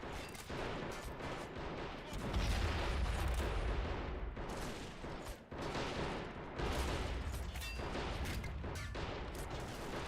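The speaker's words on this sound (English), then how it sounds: "Look at how nasty that howitzer is, guys." Howitzer artillery fire from a WW1 video game on the Italian front, loud repeated booms and gunfire bursts over a dense continuous battle din, heavier blasts arriving in clusters.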